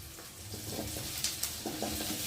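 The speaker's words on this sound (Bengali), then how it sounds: "এখন এই পেঁয়াজের মধ্যে আমি আলুগুলোকে দিয়ে ভালো করে ভেজে নেব" Steady sizzling of small-cut potatoes frying with onions in a pan, with a few soft scraping stirs.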